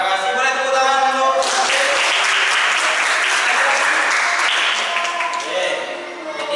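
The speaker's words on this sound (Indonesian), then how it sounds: "Boleh tepuk tangan dulu." Students in a classroom give a round of applause, loud sustained clapping close by that holds steady for several seconds before tapering off.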